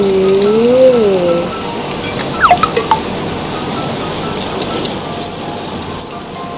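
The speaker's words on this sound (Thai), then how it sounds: "น้ำซอสกำลังเดือด นี่ เบคอนพันเห็ดเข็มทองกำลังจะสุกค่ะ" Bacon-wrapped enoki mushrooms crackle and sizzle steadily on a backyard grill, a constant rain-like hiss with scattered pops. A voice is heard briefly at the start.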